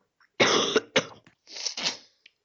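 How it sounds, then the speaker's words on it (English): Two or three harsh coughs close to the microphone, a quick burst of two followed by a rougher, throaty cough, then quiet. "Sorry about the cough"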